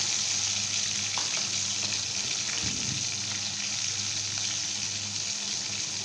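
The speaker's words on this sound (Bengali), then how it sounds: "এখন আমি মাছটা লাল লাল করে ভেজে নেব।" Katla fish pieces frying in a pan, a steady close hiss and crackle of hot oil running evenly throughout with no voices.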